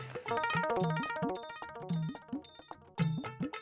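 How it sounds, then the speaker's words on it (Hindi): An electronic phone ringtone plays a bright, repeating chiming melody, loud and close, looping several times without any talking. "घंटी बज रही है।"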